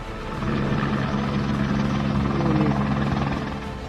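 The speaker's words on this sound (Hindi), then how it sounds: "पाकिस्तान आर्मी एविएशन कॉर्प्स के हेलीकॉप्टर लोगों को रेस्क्यू करते दिखे।" A Pakistan Army Aviation Corps rescue helicopter working over flood waters near Rawalpindi drones steadily, its low rotor thump and engine whine holding constant and fairly close throughout.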